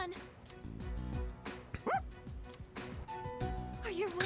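A robot dog in the video game Persona 3 Reload gives short yapping barks over game sounds and tonal effects, with some voices present.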